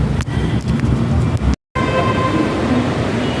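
Inside an Ernakulam metro train, a steady rumbling hum of the moving carriage fills the background, with a brief cut and continued motor whine afterward.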